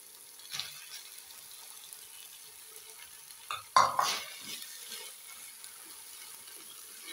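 Tomato ketchup and mayonnaise being stirred together in a bowl for a cheese sandwich, a soft continuous scraping and squelching with a brief louder clatter midway, no voices.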